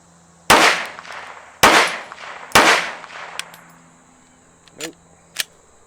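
Three loud, sharp pistol shots from a Strike Industries Mass Driver firing Winchester Active Duty ammunition ring out about a second apart, each with a decaying echo. Two smaller metallic clinks follow.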